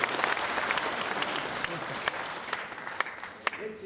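Audience applause at a Korean civil society monitoring group launch ceremony during a badge-pinning segment, a dense steady wash of clapping with scattered sharper claps throughout, fairly distant and even in level.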